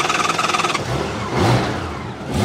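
A 1991 Honda GL1500 Goldwing motorcycle engine cranks briefly with a rapid chugging electric starter, then catches and revs up through the original stock exhaust, idling roughly afterward.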